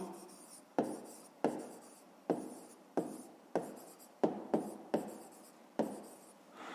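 A pen writes an answer into a school notebook during a fifth-grade math exercise, with close, repeated scratchy strokes about every half second to second, each starting sharply and trailing off.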